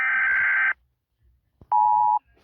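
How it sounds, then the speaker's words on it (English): A United States EAS emergency alert alarm sounds as two loud, harsh electronic tone bursts, each under a second long and separated by a short silence. "The EAS Alarm from the United States."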